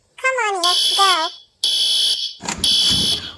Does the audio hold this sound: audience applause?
no